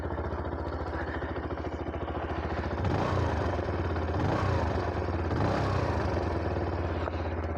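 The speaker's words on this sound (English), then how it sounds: "the bike sounds phenomenal" A Benelli BN 125cc motorcycle engine runs close by at a steady idle, then revs up a few times in short swells before settling back to a throaty, even hum.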